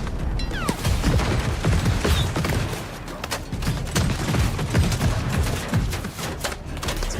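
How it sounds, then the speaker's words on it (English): Dense gunfire in Total War Warhammer 40k, a continuous volley of overlapping shots and impacts with loud bursts throughout, like a battlefield fusillade. "They are firing on us."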